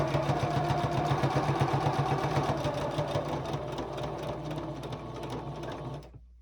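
Sewing machine running steadily at close range, stitching binding onto a gingerbread star table topper, a continuous mechanical hum that stops abruptly at the end.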